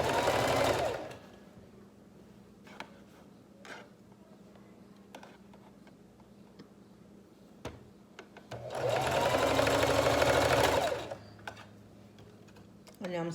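Sewing machine stitching a fabric piece at a corner, two loud bursts of rapid mechanical whirring separated by quieter clicks and handling sounds, with a voice talking in between.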